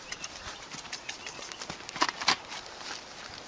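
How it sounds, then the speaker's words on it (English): Light hoof thuds from a horse jumping over tires on the ground, faint and somewhat distant, with a couple of sharper impacts near the middle as it lands; birds and soft outdoor ambience sit underneath. "you can ask your horse to jump over the tires"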